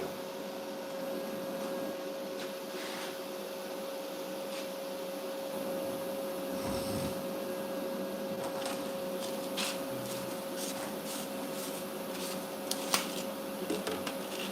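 Stick welding at about 25 amps on a crack-prone metal, heard as a steady, close crackling hiss with a constant hum underneath, running unbroken throughout and ending with a few sharper pops.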